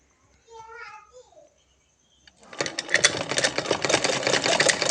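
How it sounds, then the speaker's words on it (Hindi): A voice speaks briefly, then a sewing machine starts stitching with a loud, fast, continuous khat-khat knocking from a fault in the machine, close and steady until the end. "किस तरह से आवाज़ आ रही है खट खट के यहाँ पर सिलाई करने पर।"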